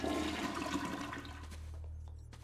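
A toilet flushes in the video game Luigi's Mansion 3, a loud rushing swirl of water that drains away into a quieter, steady trickle, heard alone.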